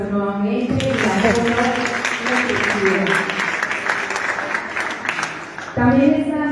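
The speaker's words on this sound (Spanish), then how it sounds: "Un aplauso nuevamente." Another burst of applause rises from the audience at a youth recognition gala in Belén, Comuna 16, between spoken lines; a voice opens and closes the stretch while clapping fills the middle.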